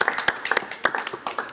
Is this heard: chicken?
no